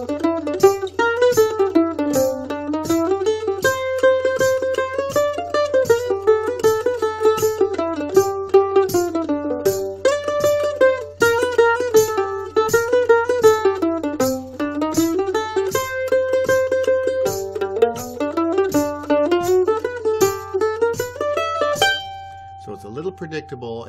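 A mandolin plays a quick, flowing bluegrass lead on Nine Pound Hammer over a steady low drone, notes tumbling in a continuous stream before a final held chord.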